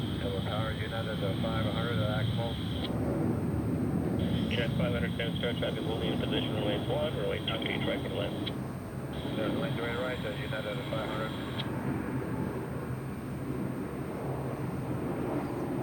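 A Boeing 737 Max 8 jet arriving from Cleveland lands at SFO. A continuous broadband engine roar with a high whining tone stays loud and steady, with a voice talking over it.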